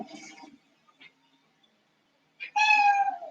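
A cat meows during a hatha yoga class: a brief soft call, a quiet chirp, then a loud, drawn-out, close meow at the end, with no talk over it.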